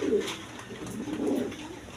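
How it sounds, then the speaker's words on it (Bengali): Pigeons kept for breeding with eggs and chicks at a wholesale pigeon seller coo softly in low, repeated throaty notes, faint and nearby, with no talking over them. "এইখানেও দেখেন ডিম বাচ্চা করানো অনেক প্রচুর পরিমাণে কবুতর আছে এইখানে আছে"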